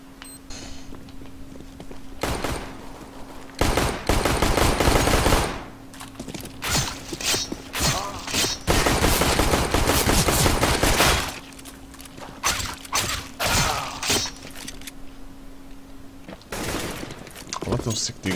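Desert Eagle pistol shots from a Counter-Strike match ring out in loud, sharp bursts over game noise, with excited voices shouting between them.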